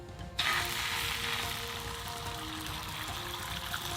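Egg mixture for a dashimaki rolled omelette hits a frying pan greased with about two teaspoons of oil over slightly below medium heat, bursting into a sudden, steady close-up sizzle that continues alone.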